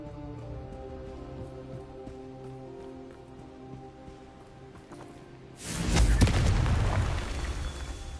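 A Bombarda blast spell in a PS4 video game sets off one loud, sudden explosion that bursts in and rumbles with a noisy decaying tail after quieter game sounds and music.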